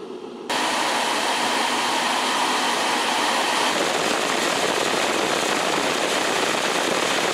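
Oversized fan on a DIY two-stage air cooler with a radiator, switching on abruptly and then blowing hard as a loud, steady broadband rush of air that holds at full strength close by.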